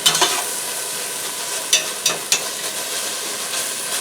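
Onions frying in a pan for chicken curry: a continuous bright sizzle with a few sharp crackles and pops, close and steady, with no talking.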